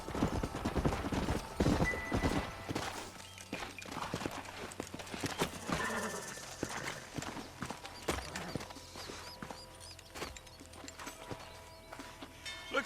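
Horses' hooves clip-clopping in the Red Dead Redemption video game, a busy rhythmic patter of hoofbeats with an occasional neigh, close and continuous over gunfight-style ambience.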